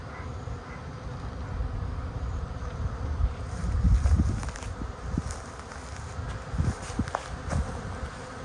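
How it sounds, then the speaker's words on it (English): A swarm of honeybees drones in a dense, low buzzing mass close to the microphone outdoors, swelling and fading with some wind rumble. "We've got a lot of the bees in the box"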